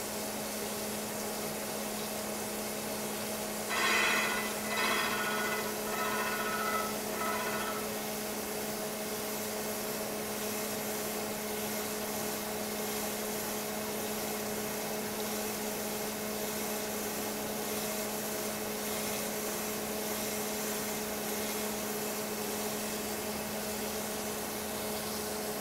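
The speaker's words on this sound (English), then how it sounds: "there we are starting to grind" A steady, continuous machine whine and hiss comes from grinding a 1948 Farmall Cub crankshaft. A brief harsher burst early on sits over the constant drone, close and with no talk.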